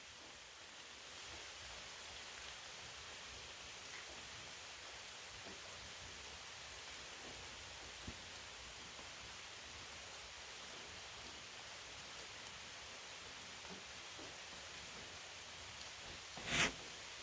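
Steady rain pours outdoors beside a concrete block rocket stove, a dense even hiss running the whole time with no voices, and one sharp brief crack near the end.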